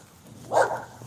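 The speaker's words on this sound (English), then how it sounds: "I hate when dogs bark at me." A single short dog bark, close and fairly loud, standing alone against a quiet background.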